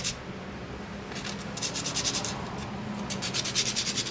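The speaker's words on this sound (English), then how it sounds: "I'll just kind of round the edge a little bit with some sandpaper" Sandpaper rubbing back and forth to round off the edge of a part in a garage, a close, steady rasping with quick repeated strokes growing more rhythmic toward the end.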